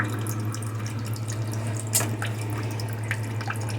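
Water trickles and drips steadily through a small wooden waterfall fountain fed by a thin hose. A low steady hum runs beneath it, and a few brighter splashes break through near the middle and toward the end.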